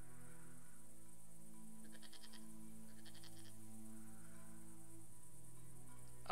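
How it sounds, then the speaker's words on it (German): Goat bleating in the video game Broken Sword 5, faint and brief bleats rising from an ambient background of chirping insects and a low steady hum. "Warum ist die Ziege wieder da?"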